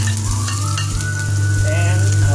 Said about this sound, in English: now we have our wok nice and warm and we can add some oil to this. I will add our spring onions